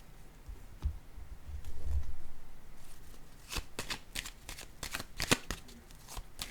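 Playing cards are handled and laid down on a table in a quiet room, giving soft rustles and then a quick series of crisp snapping flicks and taps, close and fairly faint.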